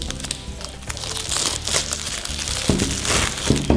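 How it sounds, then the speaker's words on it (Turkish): A plastic bag is pulled open close up, giving a continuous, loud crinkling and crackling that lasts throughout with no speech. "Önce de şu poşeti bir açayım."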